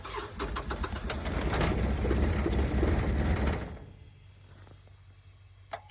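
A 1958 SA200 diesel welder engine cranks and fires on a cold start, a loud mechanical clattering roar close by for several seconds that then cuts out, leaving a quiet hum.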